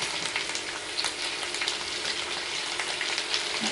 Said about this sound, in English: listen to them spitting because of the frozenness